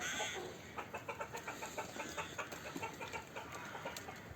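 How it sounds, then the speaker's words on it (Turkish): A flock of chickens clucks in quick, overlapping bursts at close range, a busy and continuous chatter with faint farmyard background. "tavuklar da çağırıyor yeme."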